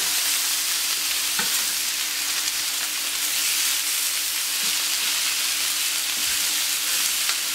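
Chicken and pineapple skewers sizzle gently at the cooler edge of a hot cooking surface, a steady, even frying hiss with a faint tonal hum and a few soft taps.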